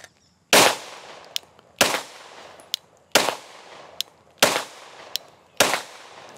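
A PSA Dagger pistol fires 124-grain rounds: five loud, sharp shots spaced roughly a second apart, each a crisp crack with a short ringing decay and faint metallic clinks between them.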